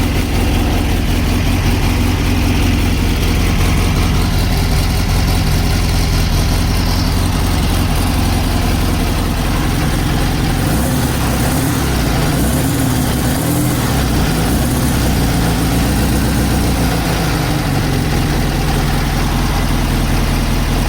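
A repaired Volkswagen Beetle engine, just started for the first time, idles with a loud, steady rumbling chug, close up and continuous, with slight rises in revs midway.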